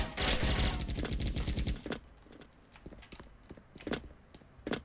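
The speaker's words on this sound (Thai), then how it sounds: "ได้ยินอีกทีนึงก็เสียงปืนแล้วครับ" A rapid burst of automatic gunfire in a video game rattles loudly, followed by scattered single shots spaced out at moderate distance, with no talk over them.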